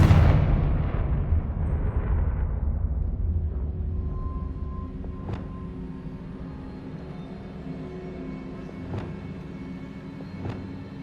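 A Confringo blasting spell explodes in Hogwarts Legacy: one heavy, loud blast whose rumble slowly decays over several seconds, followed by a few faint sharp clicks against a low ambient hum.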